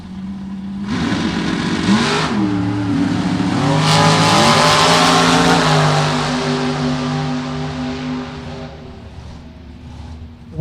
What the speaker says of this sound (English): Edson on the throttle stop in the Corvette Roadster